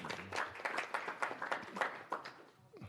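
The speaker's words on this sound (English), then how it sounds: "you notice they clap for her" Audience at a House Agriculture Subcommittee hearing applauds a guest, a short burst of scattered hand claps in a quiet room that fades out within a few seconds.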